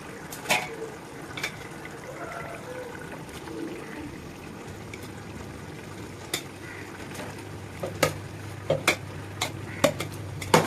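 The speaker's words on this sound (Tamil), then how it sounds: "கடாய் வச்சோம்னா கொஞ்ச நேரம் எண்ணெய் சூடாகட்டும் இப்போ நம்ம அரிசி தூக்கி போடுவோம்" Rice is stirred in hot oil in a kadai for biryani, with a soft sizzle underneath and scattered sharp scrapes and clinks of the spoon against the pan that grow more frequent toward the end.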